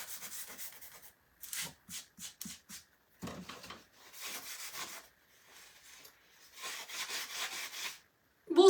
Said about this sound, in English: We're gonna sand this area down a little bit.